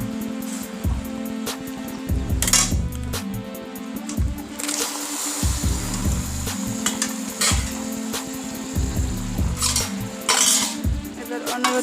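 Pumpkin stirred in sugar syrup in a pan: repeated scraping and clinking of a spoon against the pan over a low sizzle, in an irregular rhythm.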